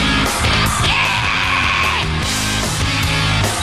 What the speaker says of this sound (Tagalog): Ang ganda-ganda ng sigaw mo.